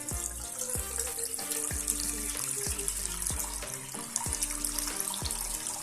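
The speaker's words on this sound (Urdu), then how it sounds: "چاول بوائل کرنے کے لیے ہم پانی لیں گے." Water running from a kitchen tap, drawn for boiling rice, flows in a steady close stream with some clinks of a pot or glass.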